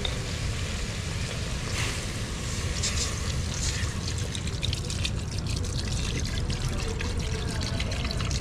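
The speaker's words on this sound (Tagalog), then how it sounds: "lagyan ng tubig to." Water pours steadily into a cooking pot, a continuous rushing splash that stays even and fairly close for several seconds with no talking.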